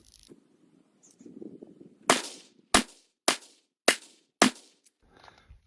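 Five sharp rifle shots from a 514-S rifle chambered in 5.56x45 firing ball ammunition off a tripod, evenly spaced about half a second apart, loud and close, after some quiet low rustling.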